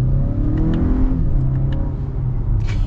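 A 2024 Acura RDX accelerates from inside the cabin, engine note rising steadily, loud and close, with a shift and faint clicks as it pulls.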